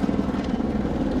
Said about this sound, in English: that's a helicopter, by the way